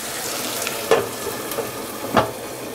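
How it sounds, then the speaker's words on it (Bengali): Dried coral fish being fried dry in a covered pan, giving a soft continuous sizzle with a few louder stirring or lid clatters standing out, close by and with no talk. "এই পর্যায়ে পানি ছাড়াই শুটকি মাছটাকে আরও 3-4 মিনিট মতো আমি কষিয়ে নিব।"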